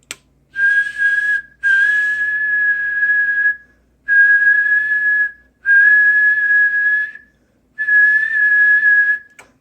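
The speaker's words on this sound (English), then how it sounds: "and I'll just whistle." A person whistles a steady single pitch into a Harris RF-3200ET radio transmitter running around 150 watts, five clear sustained tones separated by short silences, loud and close.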